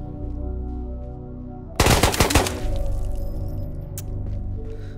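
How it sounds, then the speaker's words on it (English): SKS rifle fired as a rapid magazine dump in the Ghosts of Tabor VR game: a loud, dense burst of close shots lasting about half a second, then one more isolated crack over steady background hum. "I'm just gonna mag dump it. Okay, SKS."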